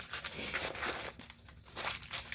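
A paper bag crumpled by hand at its bottom while shaping a pumpkin craft, giving close, continuous crinkling and rustling bursts with brief pauses and no talk.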